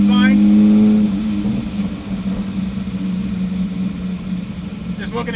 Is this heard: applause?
no